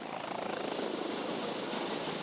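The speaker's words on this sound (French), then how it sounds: "Impossible de mobiliser cet hélicoptère plus longtemps." Police helicopter flying overhead, a steady broadband rotor and engine roar that holds constant and fairly loud throughout, with no voices.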